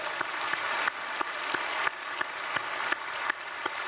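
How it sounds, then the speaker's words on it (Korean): Congregation clapping at a special early-morning church service in a Korean church, a continuous wash of many hands with faint rhythmic accents, moderately distant and steady throughout. "우리 박수로 우리 축복하겠습니다."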